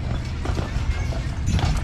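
Carriage horses' hooves clopping on Mackinac Island streets, a steady mix of hoofbeats over constant outdoor street noise, moderately close with no speech.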